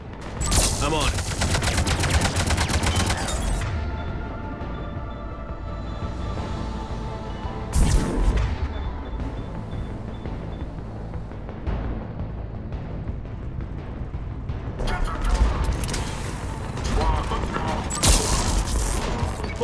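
Rapid cannon and gunfire bursts from a Mass Effect Legendary Edition battle against an Atlas mech, loud and continuous with dense volleys, heavy booms around the middle and end, and game music and voices faintly underneath.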